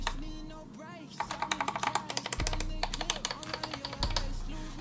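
Rapid typing on a GamaKay MK61 keyboard with Gateron Optical Yellow switches, a steady stream of close, crisp keystroke clicks with a low hum underneath and no speech.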